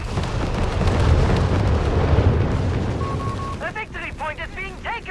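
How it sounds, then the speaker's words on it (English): Italian artillery fire explodes in the Company of Heroes 3 video game, a loud rumbling barrage of booms that gives way to a commentator talking over fading battle noise. "We do have the officer out the bazooka team getting plastered with Italian artillery fire there"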